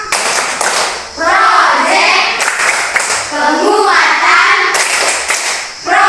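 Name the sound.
class doing the rhythmic clapping chant Tepuk P5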